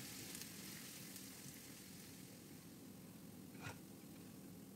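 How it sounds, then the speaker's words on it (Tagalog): Garlic sautéing in hot oil in a pan gives a continuous, even sizzle throughout, with one brief clink partway through and no voices. "Pag mainit na mantika, ay lagay ang bawang at igisa hanggang maging light brown."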